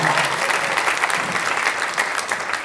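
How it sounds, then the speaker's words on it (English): An audience at a Queen Mary Dark Harbor convention panel claps loudly, a dense, sustained applause from a sizable crowd filling the whole stretch. "much like you're all applauding for the event"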